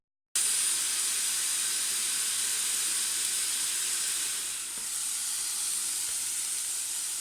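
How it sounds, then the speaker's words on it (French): Escalopes cooking in a dry pan with no fat give a steady, loud sizzle that runs unbroken with a brief dip partway through. "je vais tester de cuire les escalopes"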